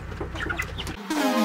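Chickens cluck in short, rapid bursts nearby, followed by a brief rising squawk-like call at the end.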